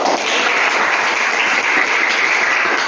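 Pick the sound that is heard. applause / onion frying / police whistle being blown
applause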